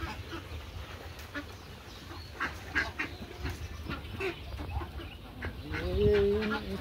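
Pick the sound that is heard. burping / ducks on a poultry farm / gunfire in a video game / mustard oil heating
ducks on a poultry farm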